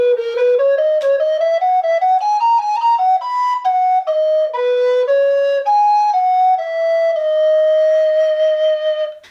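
A recorder plays a melodic line of clearly separated notes, each tongued with the light, lilting tiri articulation described by Quantz, unaccompanied and close.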